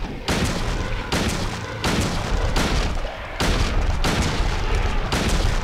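Shotgun blasts in the video game Silent Hill 2, a run of about six heavy booming shots in quick succession, loud and close.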